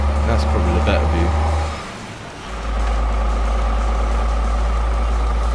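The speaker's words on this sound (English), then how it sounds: "you can hear the engine" A loud, steady DAF XF E6 truck engine drone with an MX13 engine in Euro Truck Simulator 2, dipping briefly in the middle, then returning to a constant low rumble.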